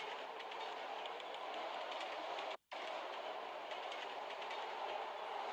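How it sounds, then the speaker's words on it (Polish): An underground metro train in the zombie shooter SAS4 rumbles steadily with a continuous rattling clatter that stays even throughout, cut by one brief dropout, with no talking. "będziemy jechać pociągiem. A raczej metrem, bo jesteśmy pod ziemią"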